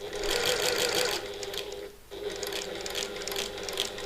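A sewing machine runs along a bag seam, a fast mechanical chatter with one brief pause partway, close and steady, with no one speaking.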